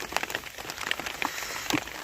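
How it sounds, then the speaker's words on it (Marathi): Light patter of scattered raindrops tapping on surfaces, soft and irregular, with a steady faint hiss underneath and no voices. "पावसाची पण रिमझिम चालू झाले"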